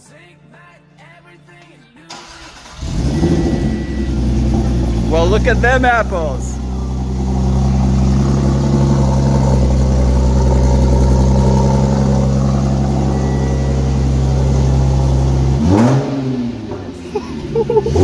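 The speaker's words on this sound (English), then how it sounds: "it's starting the car." An Audi S4 B8 after an engine swap cranks and fires up, then holds a loud, close, rough idle with revving swells for over ten seconds before cutting off; people talk before and after.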